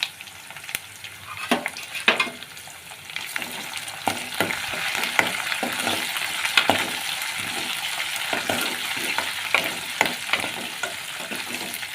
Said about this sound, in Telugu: ఇప్పుడు ఉల్లిగడ్డలు ఫ్రై వేసుకున్నామండి అండి కొన్ని కరివేపాకు వేసుకోవాలండి